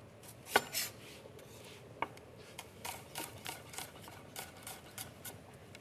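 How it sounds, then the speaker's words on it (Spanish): Onion chopped finely with a knife on a board, a series of crisp, close taps in an irregular rhythm, a few louder strikes at first and then steadier light cuts. "Si no nos gusta tanto la cebolla, pues la picamos bien y ya está."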